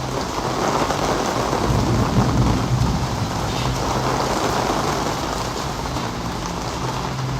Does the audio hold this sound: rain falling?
yes